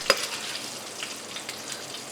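Cumin seeds, green chillies and curry leaves frying in hot oil, with one sharp spatter at the start followed by a steady, moderate sizzle and light crackle.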